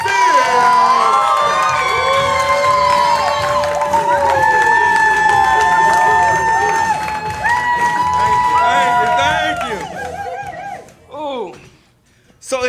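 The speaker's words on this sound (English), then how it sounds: "Let's give him a round of applause." A stand-up comedy audience claps and cheers for a first-time comedian, a loud crowd roar with whoops across most of the stretch, mixed with strong music or voices, before dropping away near the end.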